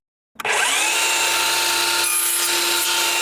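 A power saw on a sliding table cuts through wooden baseboard trim, starting abruptly and holding one loud, steady whine with a constant tone throughout, heard close up with no talking.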